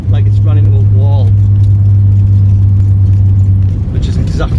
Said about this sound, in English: this car makes an absolutely unbelievable noise, in my opinion, is not just that it's a VR6